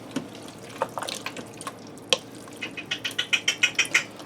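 Canned tomato juice glugs from a 46-ounce can into chili in an Instant Pot, a close series of rhythmic liquid gulps and splashes quickening toward the end, with no talk.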